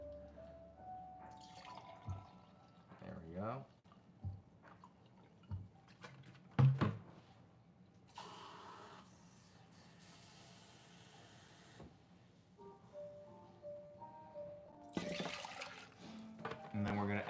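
Water and vinegar for a pickling liquid pour in intermittent hissing, splashing bursts with drips between them, fairly close and moderately loud, while a person speaks briefly.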